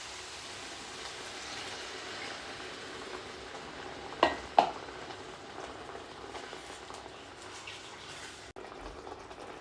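Mushrooms fry in a pan as 30% cream is poured in, giving a faint, steady sizzle. A couple of sharp utensil clicks land midway and one near the end.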